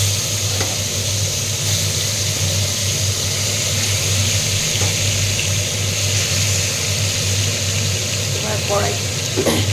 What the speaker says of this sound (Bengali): মাছটা ভাজার সময় একটু ঢেকে ঢেকে ভাজতে হয়, নাহলে খুব ফুটে তেল ছেটে